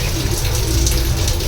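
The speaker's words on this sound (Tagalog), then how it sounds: "gripo" Steady rush of water pouring from a newly fitted tap with a hose attached for a washing machine, a continuous broadband hiss with a low splashing rumble underneath, close and fairly loud.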